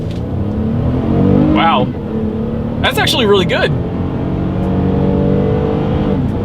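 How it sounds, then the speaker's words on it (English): A 2022 Toyota Highlander with a naturally aspirated engine accelerating hard, a steady loud engine drone rising through the gears under an excited voice speaking over it. "let's see how quickly we can get our new 2022 Highlander here up to speed"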